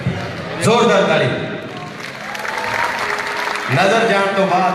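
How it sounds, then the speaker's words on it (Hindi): An audience at a live show in Auckland claps and cheers loudly in a dense, continuous wash of applause that swells, dips slightly in the middle and rises again, with a performer's voice heard over it. "जोरदार ताली"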